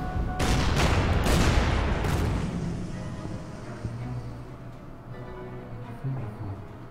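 Naval guns boom in the strategy game Order of Battle, set in a Kriegsmarine engagement at Narvik: a cluster of heavy, loud blasts in the first two seconds, then a low rumbling tail with faint later thuds.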